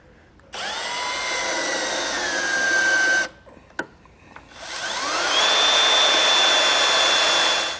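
A power drill drilling a pilot hole whines loudly at high speed for a few seconds, stops briefly with a small knock, then spins up again and runs steadily.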